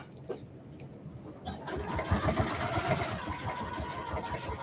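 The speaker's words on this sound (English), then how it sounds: "we are going to sew to the first mark" A sewing machine stitching a quarter-inch seam on a maker caddy starts after a brief pause and runs at an even, fast whirring hum for the rest of the moment, near and fairly steady.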